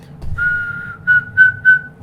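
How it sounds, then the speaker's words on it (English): A whistling keyring gadget like the one from the Bond film The Living Daylights gives a sustained high whistle, then three short rising whistle bursts in a row, close and clear over faint background rumble. "It's a whistling keyring"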